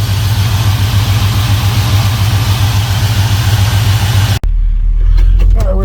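A car engine idles with a loud, steady low rumble close by, then cuts off abruptly, leaving a quieter garage with faint scattered sounds.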